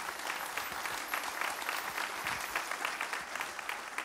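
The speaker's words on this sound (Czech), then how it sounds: "Děkujeme za váš potlesk." A crowd applauds steadily at a Christmas concert, a dense wash of clapping hands that holds at an even level from start to finish.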